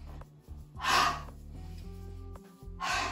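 Deep breaths during a yoga spine stretch, two long audible inhales or exhales a couple of seconds apart, close and soft over a quiet sustained musical background.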